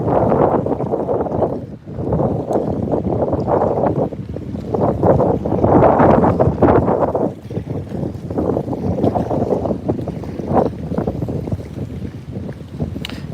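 Strong wind gusting across the microphone while bass fishing from a boat, heavy rumbling buffets that rise and fall throughout with no talk.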